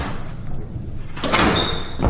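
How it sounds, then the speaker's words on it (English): A door is swung shut with a solid thud in a quiet indoor room, a single close closing sound standing alone without talk. "Close the door."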